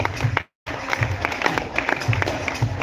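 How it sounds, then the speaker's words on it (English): Audience applause at a university festival closing ceremony, steady crowd clapping with a brief cutout early on, moderately loud and continuous. "Can we give them a big round of applause?"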